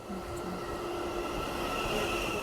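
An electric commuter train runs with a steady rumbling roar heard from inside the carriage, a constant hum and rattle of wheels on rails with a faint whining tone throughout.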